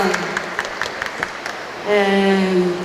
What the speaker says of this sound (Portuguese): Recebam com palmas a Mari